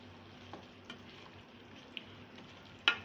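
Spices and crushed cumin stirred into mixed vegetables in a pan, a quiet low sizzle with a few soft scrapes of a spoon and one sharper clink at the end, with no speech.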